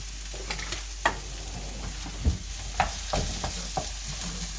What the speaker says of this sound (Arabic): البصله غادي نخليها تشحر